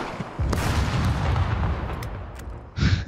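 Grenade launcher fire in the survival game SCUM: a loud burst of blasts erupts around half a second in, a sustained rumbling roar follows, then a second sharp blast lands near the end.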